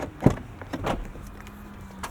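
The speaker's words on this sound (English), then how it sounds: "I like having a power tailgate." A power tailgate on a 2024 Chevrolet Blazer EV RS AWD, heard as a couple of soft mechanical clunks and then a low, steady electric motor hum, close by and fairly quiet.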